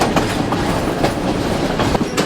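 A train running along a Sri Lanka railway line once used to haul coffee and tea, a loud steady rumble with regular clickety-clack beats from the wheels, heard from on board.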